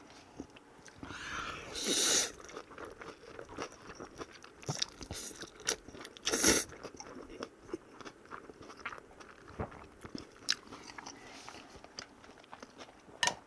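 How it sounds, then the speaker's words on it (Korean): Close crunchy bites and chewing of raw Cheongyang chili peppers, with a few louder crisp crunches standing out against quieter mouth sounds and no talking. "청양고추가 확 들어가고 아삭아삭하게 씹히는데"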